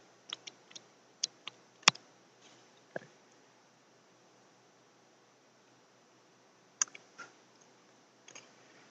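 Sparse plastic calculator keys being pressed, short sharp clicks arriving singly and in small clusters with long quiet gaps, close and fairly faint over a low hiss.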